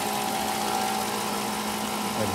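A car's engine idles at a car auction in Japan, giving a steady, even hum that stays close and constant.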